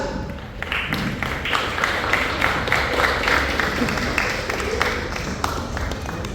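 A crowd at a Christmas cake launch event claps continuously, a dense patter of hands that holds steady throughout at moderate loudness.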